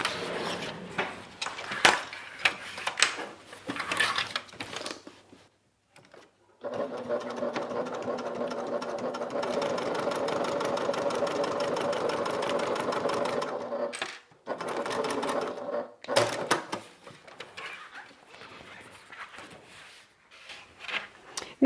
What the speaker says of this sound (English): what you're trying to do is just go ahead and stitch this on